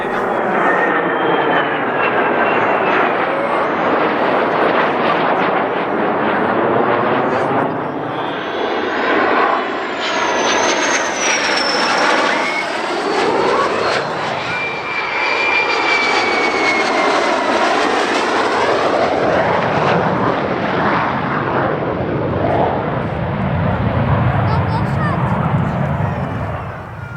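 An F-35 fighter jet landing at Leeuwarden air base, a loud, sustained jet engine roar with sweeping whine and rumble that rises and shifts in pitch throughout, with crowd voices audible underneath.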